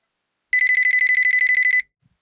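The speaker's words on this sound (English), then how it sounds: "The phone rang." A telephone rings with a single sustained electronic trill, loud and close, lasting just over a second before cutting off into silence.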